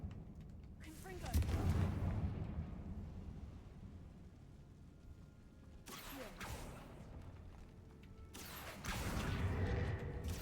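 Confringo blasting spell explosions from Hogwarts Legacy, several heavy booming bursts with rumbling low-end tails, fairly loud, separated by quieter stretches of game ambience.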